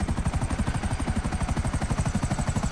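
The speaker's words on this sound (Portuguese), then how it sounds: "Vamos ver se eu consigo fazer o helicóptero ficar em cima do Zeppelin" A helicopter in the video game GTA V, its rotor chopping in a fast steady pulse, loud and close throughout.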